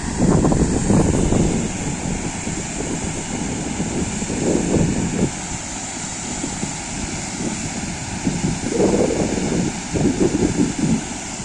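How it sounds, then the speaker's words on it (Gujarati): Jamjir waterfall in the Gir jungle pours in a steady, broad roar that fills the scene, with gusts of wind buffeting the microphone now and then. "કેટલો મસ્ત મજાનો ધોધ અહીં વહી રહ્યો છે"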